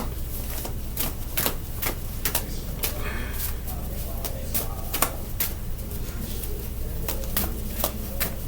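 Oracle cards being shuffled into a stack, a close run of quick papery riffles and sharp taps repeating steadily over a constant background hiss.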